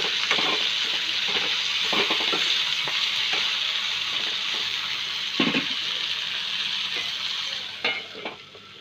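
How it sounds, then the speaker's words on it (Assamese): Taro stolon bhaji sizzles steadily in a pan, close and continuous, with occasional scraping stirs of a spatula every second or so, fading slightly near the end. "কিছু সময় মূৰে মূৰে লৰাই এনেদৰে ভাজি থাকিব লাগিব।"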